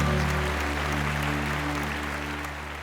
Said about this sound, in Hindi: इसका लोगों ने तालियों की गड़गड़ाहट से स्वागत किया।